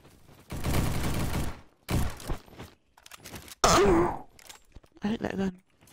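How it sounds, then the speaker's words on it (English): Rapid bursts of gunfire from the online shooter game Bad Business, coming in several loud clusters separated by short gaps, with a sharp high crack near the middle and brief tonal game effects. "I hate that gun so much."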